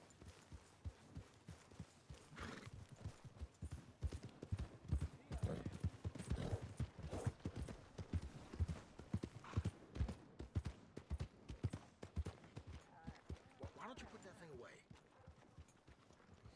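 Horse hooves clip-clop at a walking pace in Red Dead Redemption 2, a run of close, irregular thuds and clacks under someone talking in German, with a brief whinny-like sound near the end.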